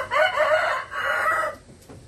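A rooster gives a short, loud crow with a clucking tail, close by and alone.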